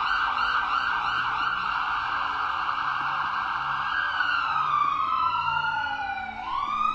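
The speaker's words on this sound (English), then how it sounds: "We should not ignore the siren of an ambulance." A loud wailing ambulance siren sweeps up and down steadily, then drops in pitch as it passes and rises again, with traffic rumble beneath.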